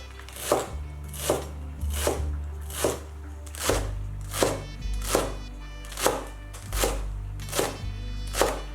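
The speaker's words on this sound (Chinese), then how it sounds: "韭菜洗净再切碎" A knife chops washed Chinese chives on a cutting board in about a dozen even, firm, close strokes at a steady rhythm, each a sharp thunk, with no talk.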